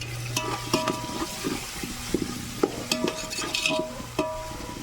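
Biryani with green chilies, coriander and mint being stirred in a pot over a wood-fire stove, with repeated ladle scrapes and metallic clinks over a low, steady sizzle.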